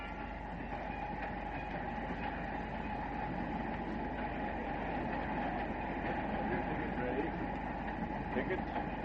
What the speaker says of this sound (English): A scene on a train just after crossing into Canada by way of Niagara Falls.